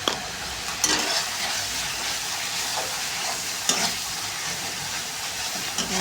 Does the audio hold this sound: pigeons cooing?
no